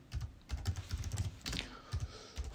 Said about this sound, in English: I'm going to type into this search